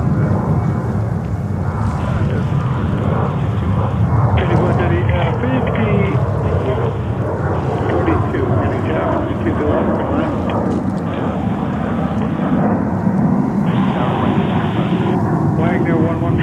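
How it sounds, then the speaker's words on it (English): A Delta Airbus A330-200 widebody arriving at JFK airport produces a steady, continuous engine roar and rumble with some wind buffeting, with no distinct change in level throughout. "Widebody coming in Delta 107 330 200."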